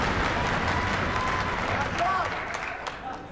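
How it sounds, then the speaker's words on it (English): A European crowd at a Mosconi Cup pool match stirs with scattered applause and murmuring that fades gradually, and a commentator's voice runs over it. "The European crowd is stirring now"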